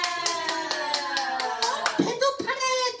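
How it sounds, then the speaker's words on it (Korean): Children at a daycare puppet show clap along in a quick, regular rhythm of sharp hand claps, close and fairly loud, while a sustained sung or voiced tone runs underneath. "박수"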